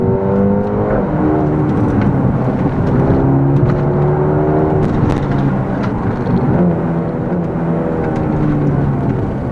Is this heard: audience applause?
no